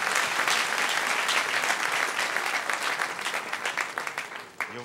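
A church congregation claps to acclaim God during a Sunday service, dense sustained applause filling the room at close range before thinning into scattered claps at the end.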